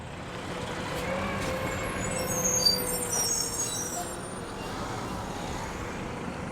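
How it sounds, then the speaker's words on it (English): Garbage trucks pass by outdoors, a steady broad roar of heavy engines and road noise that swells slightly midway and then holds at a moderate level. "I apologize for the garbage trucks."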